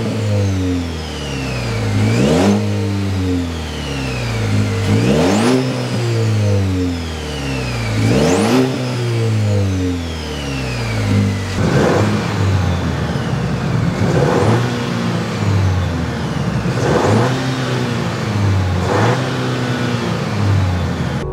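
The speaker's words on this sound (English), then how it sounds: "It has a really good exhaust tone to it." A 2.7 liter Chevy Colorado truck with its factory exhaust revs loudly and close, about eight sharp throttle blips every two to three seconds, each rising then falling back to a rumbling idle, with no talk over it.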